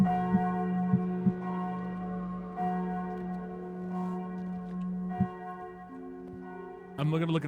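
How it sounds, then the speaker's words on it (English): A big bell tolls in the game We Were Here Forever with a sustained, humming resonance that decays slowly, a few soft knocks over it, and a brief louder clatter near the end. "I bing bong the big bell."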